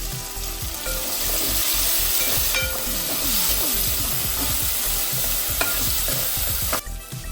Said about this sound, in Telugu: మనం ఇప్పుడు ఇందులో పుదీనా వేసుకుందాం